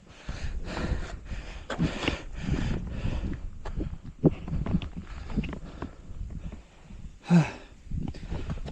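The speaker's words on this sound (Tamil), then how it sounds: "ரொம்ப மூச்சு வாங்குது." Heavy, laboured breathing from someone exhausted while climbing a slope in Wayanad, Kerala: repeated close panting and sighing breaths, a loud gasp near the end, with rustling footsteps behind.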